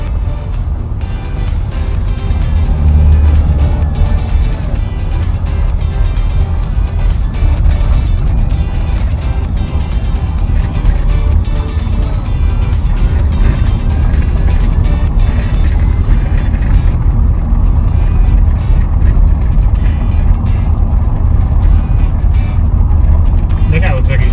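A car rides over a bumpy unpaved road near lakes in the Orlando area, producing a loud, continuous rumble with rattling jolts throughout, and a voice is briefly heard.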